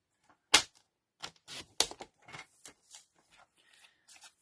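Scissors snip through cardstock while trimming paper for a handmade Stampin' Up Easter bunny card, a handful of short, close, crisp cuts and rustles spaced irregularly, with no talking.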